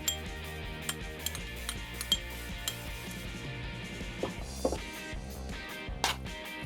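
Wonton filling being mixed in a bowl with lemon and grated ginger: a quiet run of light clinks and taps of a utensil against the bowl at an uneven rhythm, with faint background noise.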